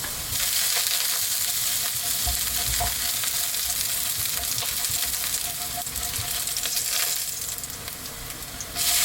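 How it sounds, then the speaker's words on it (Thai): Loud continuous sizzling in a pan as garlic is stir-fried in hot oil, with occasional scraping and stirring sounds and no talk. "จะมาผัดกระเทียมกันต่อเลยนำกระเทียมลงไป ผัดจนกระเทียมเหลืองหอมเลยนะครับ"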